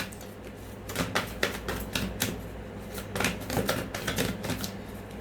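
Tarot cards riffle and slip in quick bursts of crisp, papery clicks, close and fairly loud, with short pauses between runs.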